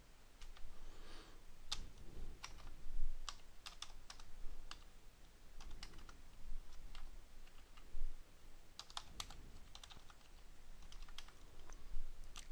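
Steady, close clicking of computer keyboard keys as someone types into an Excel spreadsheet, quick irregular taps over a quiet room hiss with no talking.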